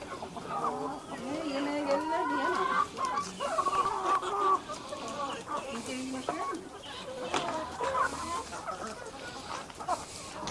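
Several chickens cluck and squabble close by while feeding in a village coop, continuous chattering with occasional louder squawks, as a person talks underneath.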